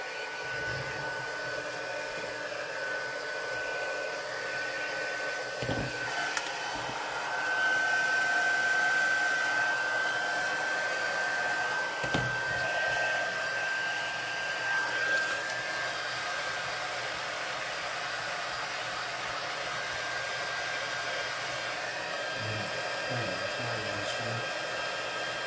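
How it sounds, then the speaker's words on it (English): A heat embossing tool blows hot air for card making with a Stampin' Up! stamp set, a steady close whirring hiss that runs the whole stretch, swelling slightly in the middle, with a few light knocks and no talk. "Find my embossing tool here."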